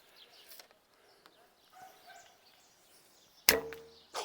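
An arrow from a vintage Falco Twinbow reflex bow strikes a target with one sharp, loud impact near the end, preceded by faint bird calls and quiet outdoor ambience.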